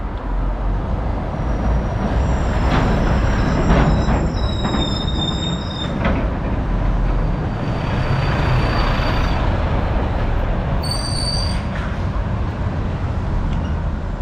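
Heavy traffic on the busy A52 road rumbles steadily close by as a lorry passes, with deep engine and tyre noise, a few squeaky brake tones, and a sharp high whine near the end.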